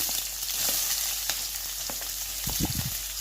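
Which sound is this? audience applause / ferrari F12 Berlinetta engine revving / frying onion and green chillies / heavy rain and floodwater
frying onion and green chillies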